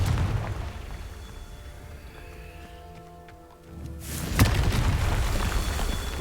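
A Confringo fire spell explodes in Hogwarts Legacy, a single loud burst near the four-second mark that leaves a dense, roaring tail. Busy game ambience with faint tones sits underneath beforehand.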